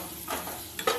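Spiced potatoes stirred and sautéed in a pan for a vegetarian curry, giving a brief close scraping stir over a low sizzle, with a sharper scrape near the end.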